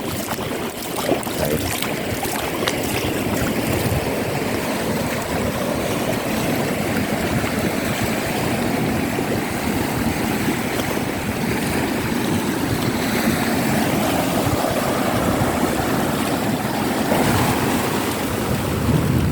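Sea waves breaking continuously along a long beach at Mae Ramphueng in Rayong, a steady, loud wash of surf with wind noise and no pauses or talking.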